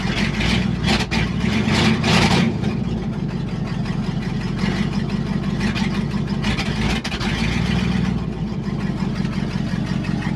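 A Ford F-750 dump truck's engine idles steadily with a deep, continuous rumble, close and loud, with a slight rise in revs near the start.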